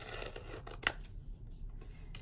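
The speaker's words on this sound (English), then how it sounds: "And we'll cut out his mouth for his smile." Scissors snipping out the mouth of a paper fish for a craft, a few quiet short cuts with one crisp snip standing out over faint room noise.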